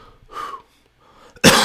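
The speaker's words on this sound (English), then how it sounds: "it hurts when I cough" A single sharp, loud cough bursts out at the end, after a quieter throaty breath or throat-clearing sound earlier, with no talking.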